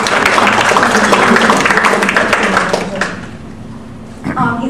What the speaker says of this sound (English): Another round of applause for Gary,